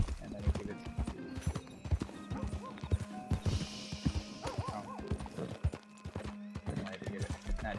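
A horse in the game Red Dead Redemption 2 Online, its hooves clip-clopping in a steady rhythm along with a clear whinny, mixed with other game sounds and voice-like noise.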